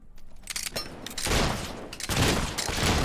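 Rifle fire in Fable 3, several loud close shots that swell into sustained, dense gunfire and booming noise filling most of the short stretch.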